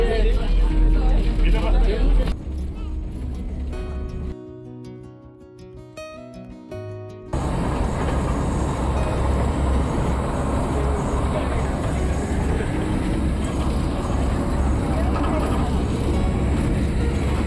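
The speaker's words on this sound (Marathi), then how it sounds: "5 ते 10 मिनिटांनंतर ट्रेन स्टेशनवरून निघाली।" A train pulls away from a station on the Matheran hill route with a loud, continuous rolling rumble. The sound dips briefly midway, then returns strongly, and voices can be heard among the passengers.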